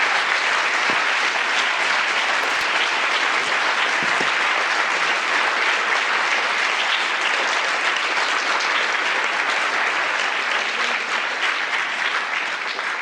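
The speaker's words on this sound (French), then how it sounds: "Je pense qu'on peut l'applaudir encore une fois." Sustained, dense applause from a large audience fills the room at a talk on leadership, steady and loud throughout with no voices breaking through.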